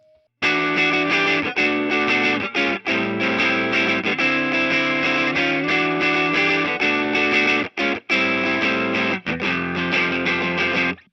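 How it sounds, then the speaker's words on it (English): An electric guitar plays continuous chords through a distortion pedal set at very low gain, giving mild, slightly gritty overdrive, with a couple of brief breaks in the strumming. "instead of using it as a full distortion, I actually use it more like an overdrive, with the gain set very low"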